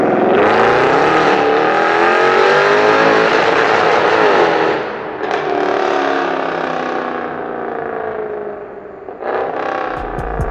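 A Mercedes 6.2-liter V8 sending over 450 brake horsepower to the rear wheels revs hard and close, its loud, rasping engine note sweeping up and down in pitch with brief dips between pulls.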